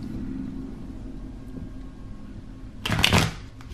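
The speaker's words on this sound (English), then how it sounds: "Oh yeah, shuffles nice that way as well." A tarot deck of sturdy cardstock is shuffled overhand in one quick, crisp riffling burst near the end, over a low background rumble.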